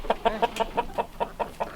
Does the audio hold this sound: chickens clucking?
yes